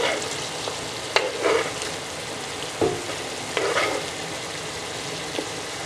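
A large sliced and diced onion frying in a pan with a steady soft sizzle, broken by a few scraping stirs of a utensil and occasional louder hisses as the pieces are moved around.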